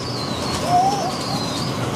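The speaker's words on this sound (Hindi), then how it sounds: "ये 5 नंबर कबूतर है" Pigeons coo softly in a steady, noisy background, with a faint chirpy bird call rising briefly in the middle.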